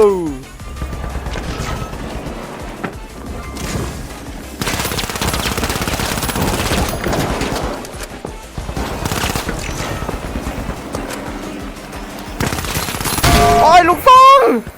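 Bursts of rapid automatic gunfire crackle through a firefight in the video game The Finals, repeated volleys of varying length with a voice talking briefly in between.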